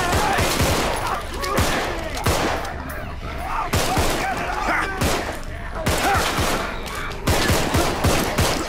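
Rapid gunfire from the zombie shooter game Contagion, repeated bursts of sharp cracking shots in clusters with brief gaps, loud and close throughout.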